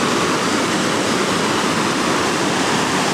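A loud, steady rush of water gushing out of the ground like a big spring, continuous and close, at the Rogue River natural bridge; no voices.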